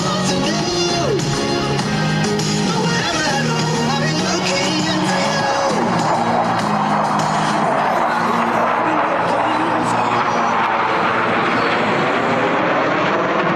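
Navy Blue Angels jets flying the Diamond roll at a military air station airshow, a loud continuous jet engine roar that sweeps and shifts in pitch as the formation passes, with crowd noise and announcer voice beneath.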